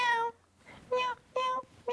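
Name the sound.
person imitating a cat meowing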